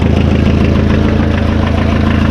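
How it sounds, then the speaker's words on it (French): A Pony 1.9-litre diesel engine idles on a cold morning at about −2 °C. The loud, steady, close-up throb has a faint knocking pulse and no voices. "Là, et ensuite normalement il démarre."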